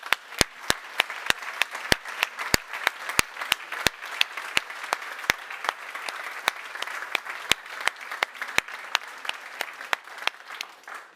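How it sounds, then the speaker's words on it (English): An audience at a software conference's center stage claps steadily for about eleven seconds, a dense wash of applause with sharp individual claps standing out, even and sustained, with no talking over it. "Big applause."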